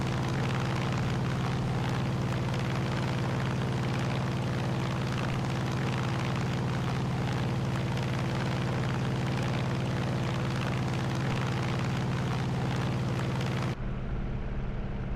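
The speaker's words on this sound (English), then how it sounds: "Low level flyby." Hellcat aircraft making a low level flyby in Canada, a loud continuous engine roar with a steady deep drone that fills the whole stretch and cuts off abruptly near the end.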